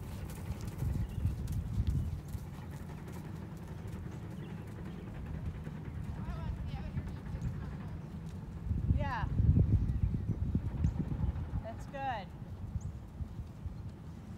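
A horse trots under saddle on soft, non-dusty arena footing, giving a muffled, steady clip-clop of hooves under a low rumble of movement, with people talking intermittently over it.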